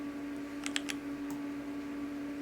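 Typing on a modded mechanical keyboard with linear switches: a few quick, soft key clacks in a short burst and then a lone press, fairly faint against a steady electrical hum.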